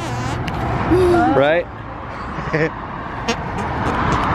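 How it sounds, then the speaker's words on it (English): Steady roadway traffic rumbles underneath the whole stretch, a broad engine wash with a vehicle passing, while people talk over it up close. "you're not gonna hear it too good because of the traffic noise"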